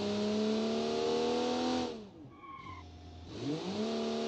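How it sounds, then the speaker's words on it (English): A 1975 inline-six car engine in the BeamNG driving game revs high and loud without a muffler, drops off sharply with a brief dip, then climbs back up through rising revs. "It sounds like an inline-six."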